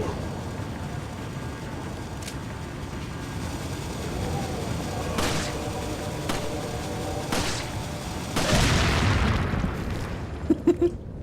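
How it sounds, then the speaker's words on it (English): Explosives in the video game Resident Evil 4 go off as a run of sharp booms and pops, with one bigger blast near the end followed by a few quick cracks, over a steady game background. "I want you to shoot your explosive."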